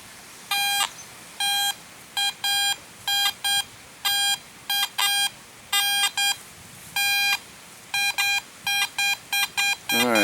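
A metal detector sounds its signal tone over a buried target in an old park, giving repeated bursts of clear, high electronic beeps in an uneven rhythm. The beeps are close and loud against quiet outdoor background.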